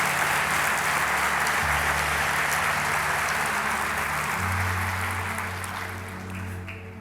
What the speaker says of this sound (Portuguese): Você pode dar a sua melhor salva de palmas a Jesus?